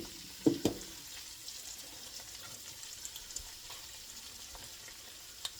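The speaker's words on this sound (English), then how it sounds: "I'm doing a step-up roux. I do add all the flour at one time." A flour roux for sausage gravy cooks in a pan with a faint, steady sizzle. A couple of sharper stirring knocks come near the start, then a few light clicks.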